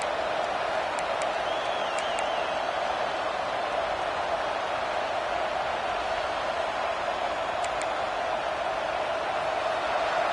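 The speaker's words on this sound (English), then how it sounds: "Listen to this crowd just shaking the girders of this place trying to help their defense." Stadium crowd noise in the College Football 26 video game, a steady dense roar sustained throughout with no breaks, loud and broad, during a Mississippi State versus Tennessee matchup.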